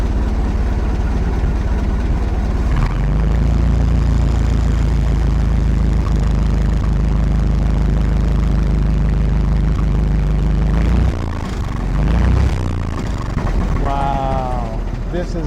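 A 1907 Renault IA four-cylinder engine idles, a steady low, smooth rumble that holds close and loud for most of the stretch before dipping, with a voice speaking briefly near the end.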